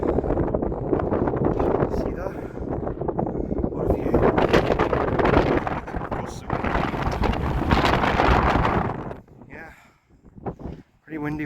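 Strong wind rumbling and buffeting the microphone atop a ruined medieval castle tower, loud and gusty for several seconds before briefly dropping away; no talking.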